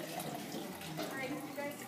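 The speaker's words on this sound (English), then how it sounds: "you have to take the sap out of the bucket and pour it into the cup" Maple sap pours from a bucket into a cup in a steady, close liquid splash and trickle that lasts the whole moment.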